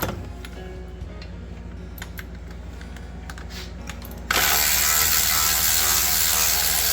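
Ratchet wrench clicking as it tightens a bolt during a thermostat replacement on a 1993 Chevrolet S10 Blazer, rapid fine ticks close up, followed by a sudden jump to louder broadband noise.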